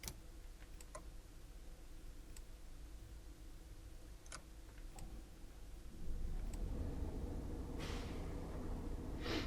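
Diesel engine of a Solaris Urbino 18 articulated city bus idling in the OMSI 2 simulator, a steady low rumble with sparse clicks, swelling louder and rougher partway through as it revs.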